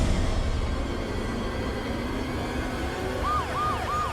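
A police car siren wails faintly in the distance with a few quick rising-and-falling sweeps near the end, under a steady background rumble of traffic and room noise, with no talk.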